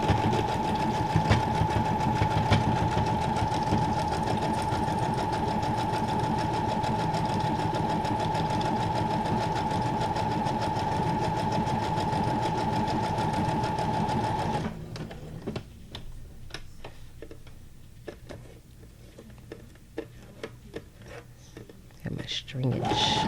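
A sewing machine with its standard needle stitches through paper and layered material, a steady loud mechanical whir with a whining hum running continuously, then stopping midway and leaving scattered clicks and soft handling noises.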